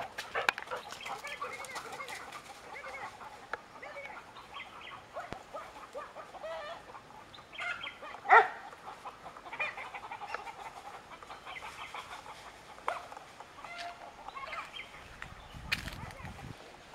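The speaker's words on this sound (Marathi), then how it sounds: "आता कोंबड्या ओरडायला लागल्यात" Chickens in the Konkan countryside squawking and clucking in agitated bursts at moderate distance, over a faint outdoor background with scattered birdsong.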